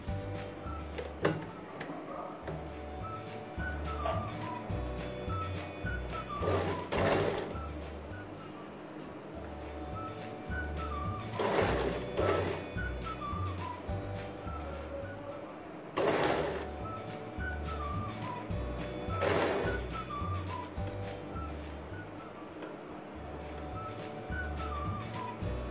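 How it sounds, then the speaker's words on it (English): A sewing machine runs in repeated bursts, top stitching frills on a kurti, with a steady mechanical rhythm and short pauses between runs. "Now I will give a top stitch to secure these frills."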